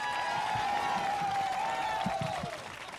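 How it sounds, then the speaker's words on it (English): Outdoor political rally crowd in San Antonio applauding, a dense steady wash of clapping with cheering and a sustained whistle over it, fading slightly at the end. "Let's give him a round of applause."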